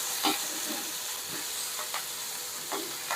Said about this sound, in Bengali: এগুলোকেও এই যে ভেজে নিব।